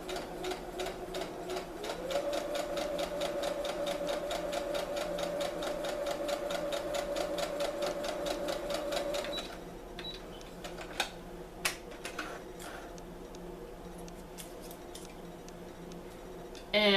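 A sewing machine runs a half inch seam allowance on fabric, like binding a quilt, with a steady rapid stitching rhythm for about nine seconds, then stops, leaving quieter handling clicks and taps.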